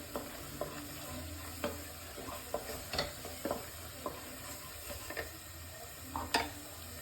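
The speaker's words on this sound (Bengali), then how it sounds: "মশলাটা থেকে তেল ছাড়া শুরু হয়ে গেছে। এতে আলুগুলো দিয়ে জল দিয়ে একবার ফুটে উঠলেই আলুর দম রেডি।" Spiced oil for alur dom with potatoes frying in it: a quiet, steady sizzle broken by irregular scraping and tapping strokes of a spoon stirring in the pan, close-up with no voices.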